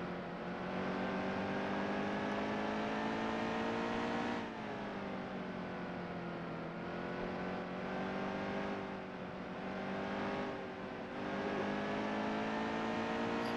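A NASCAR race car engine at Bristol in NASCAR Heat 2, a loud sustained drone with steady rising pitch and brief dips as the throttle lifts for turns, heard alone.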